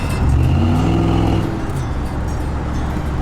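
A truck engine revs up loudly nearby, its pitch climbing and falling within a second before dropping back to a rough, steady rumble.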